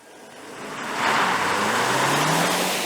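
A Toyota hybrid with an electric rear e-axle accelerates hard in sport mode, road and motor noise swelling from quiet to a steady loud rush with a faint rising electric whine.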